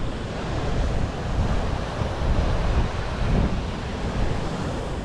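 Steady, loud rush of the Talla waterfall running over rocks and downhill, a dense, unbroken roar close by with no voices.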